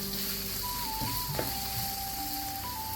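Onions sizzling in a pan for tomato rice while being stirred, a steady close frying hiss with a faint scrape or two of the spoon, a thin tonal whine running through the background.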